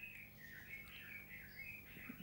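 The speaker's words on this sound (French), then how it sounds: "Vous entendez les oiseaux ici, c'est le pays des oiseaux ici" Small birds chirp and tweet continuously outdoors, a steady chorus of overlapping calls at moderate distance with no talking.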